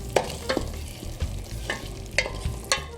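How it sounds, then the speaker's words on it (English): Red rice being stirred in a pan with tomato sauce, a spoon scraping the pan in a few distinct strokes over a soft steady sizzle, close and fairly quiet with no voices. "I'm going to mix this in so it's evenly distributed in the rice."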